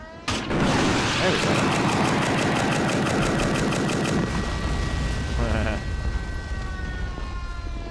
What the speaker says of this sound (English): It's a very stupid gun.